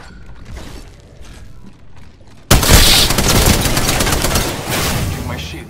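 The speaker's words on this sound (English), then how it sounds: "Shots fired at me." Rapid bursts of video game gunfire in a ranked shooter match, starting abruptly partway through and continuing loud and dense, with mechanical clicks under it.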